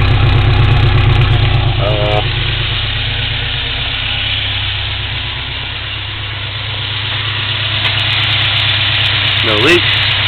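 An engine idles with a loud, steady low rumble close by, briefly rising in pitch with a couple of short throttle blips near the start and end.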